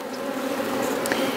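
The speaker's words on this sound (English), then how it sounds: "These bees are so much more gentle." Honey bees swarm around a hive in a high tunnel, a dense steady buzz close to the listener with individual bees droning past now and then.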